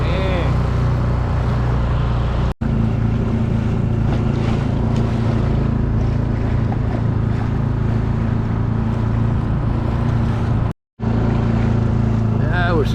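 A small skiff's outboard motor drones steadily at low trolling speed off La Jolla, with wind and water noise washing over it, continuous and close throughout.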